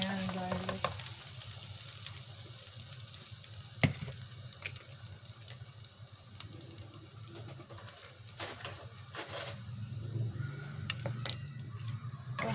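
Garlic sizzles steadily in butter in a pan while being stirred, a continuous frying hiss with occasional clinks and scrapes of the spoon against the pan, close and moderately loud.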